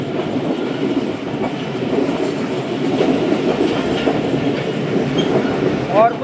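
The 16Dn Karachi Express, running from Multan to Karachi, rolls along the rails at speed with a continuous rumble and rhythmic clatter from the carriage, and a brief squeal of the wheels near the end.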